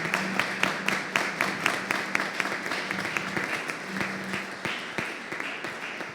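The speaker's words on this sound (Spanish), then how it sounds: "Damos un aplauso de bienvenida y de acogida" Sustained applause from a crowd, dense overlapping claps at steady volume throughout with no talking.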